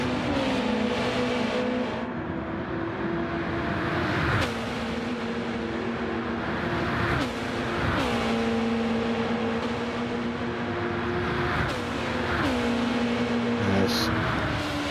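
A racing car in a racing video game brakes and accelerates, its engine note climbing in repeated rising sweeps with sharp drops at each gear change, loud and continuous, with faint commentary underneath.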